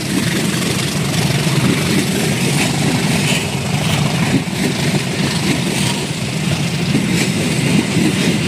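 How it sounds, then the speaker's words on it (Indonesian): A passenger train on the Jember-Kalisat railway line in Indonesia rolls past slowly, its steady low rumble and faint wheel clatter continuous and fairly close with no talking. "Keretanya berjalan dengan kecepatan yang cukup pelan."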